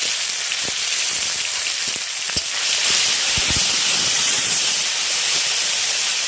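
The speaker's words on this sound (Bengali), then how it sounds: "পাঁচ ফোড়ন আর শুকনো লঙ্কাটা দেওয়ার পর দিয়ে দিচ্ছি সর্ষে বাটা" Mustard paste dropped into hot oil already holding panch phoron and dried red chillies, with turmeric to follow, giving a steady loud hiss and sizzle with a few soft knocks.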